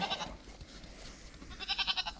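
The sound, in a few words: goat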